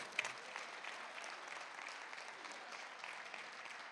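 Steady applause fills a church congregation during a sermon, a dense, even wash of many hands clapping that holds for the whole stretch at a fairly faint, distant level.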